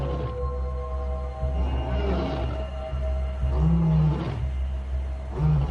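A male lion roars to proclaim its territory in the wild, a deep, loud, drawn-out roar followed by shorter grunting calls near the end, close and unaccompanied by speech.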